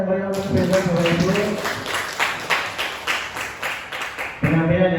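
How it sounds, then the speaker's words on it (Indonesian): An audience at an event breaks into loud, continuous applause, dense clapping that swells and holds for several seconds with a voice faintly heard at the start and end. "tepuk tangan yang paling berbeda Bapak Ibu"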